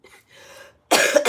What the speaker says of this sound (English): Sorry, I'm gonna be coughing